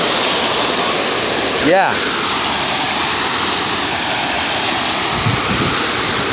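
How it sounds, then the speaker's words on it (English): Rushing water from the Bellagio waterfall roars steadily and loudly up close, a broad constant wash with a brief voice speaking over it. "You like the waterfall?"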